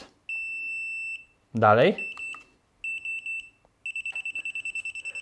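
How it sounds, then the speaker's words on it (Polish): An electronic beeper on a WE01A airsoft carbine sounds its fire-mode settings as groups of high, clean beeps: a long tone, a short cluster, then a rapid run of many pulses, with a brief spoken word in between. "I teraz mamy jedno piknięcie i trzy piknięcia, jak pojedynczy i na nastawie auto tryb burst."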